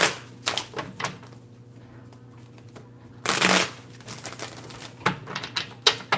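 Tarot cards being shuffled by hand: close, crisp bursts of riffling and clicking card edges come in uneven clusters, with a longer, louder flurry midway and quieter gaps between, and no talking.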